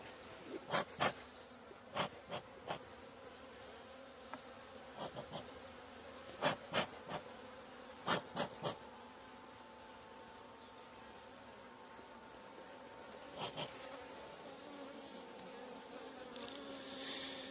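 Honeybees buzz softly around an open hive during a beekeeping inspection, a faint steady drone with brief louder passes from individual bees flying close by, no talking.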